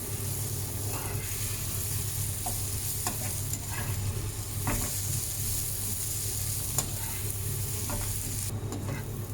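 Onions frying with chili flakes in a pan for devilled potatoes, a steady loud sizzle running throughout, with a spoon scraping and stirring in scattered strokes.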